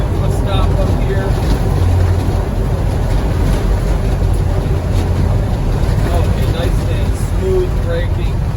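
A 1992 Land Rover Defender 110 with a 200tdi diesel drives at road speed and brakes to a stop, heard as a loud, constant cabin rumble of engine and road noise with wind buffeting and a person talking over it.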